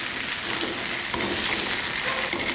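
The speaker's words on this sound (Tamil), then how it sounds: "சரி, மிளகாயை நல்லா வதக்கு மட்டும் விடுவோம்." Banana peppers sautéing in oil give a dense, loud, continuous sizzle close up, steady throughout with faint scraping underneath and no voices.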